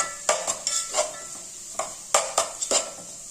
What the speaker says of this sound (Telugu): మనకు క్యారెట్ చక్కగా ఫ్రై అయిపోయింది.